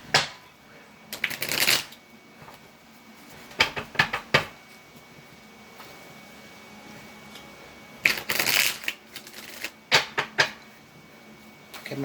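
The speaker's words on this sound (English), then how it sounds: "one more shuffle on them" Tarot cards being shuffled by hand, several separate bursts of riffling and card flicks with quiet pauses between them, close and crisp.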